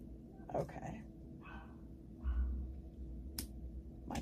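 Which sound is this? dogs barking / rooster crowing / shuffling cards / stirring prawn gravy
dogs barking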